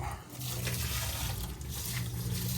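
Water runs steadily from a tap in a continuous, close rushing stream with no talking.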